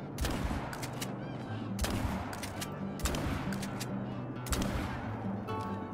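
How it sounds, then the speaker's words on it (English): Rapid gunfire at a flock of geese in the hunting game Call of the Wild with a Western-style loadout: four loud, booming volleys about a second and a half apart, each with a fast rattle of shots, over steady background ambience. "And of course I started shooting as another flock comes in"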